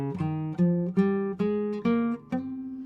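Guitar plays a C Phrygian scale, six or so clearly separated plucked notes stepping upward at an even pace, close and alone.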